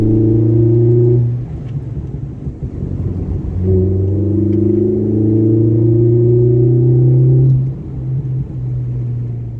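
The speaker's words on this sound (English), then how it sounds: "now on a short, spirited but very chilled drive back through the countryside" A Ford Fiesta ST150 Mk6 on a spirited countryside drive, its engine droning loudly from inside the cabin with a few gear changes and rises in revs, steady and close.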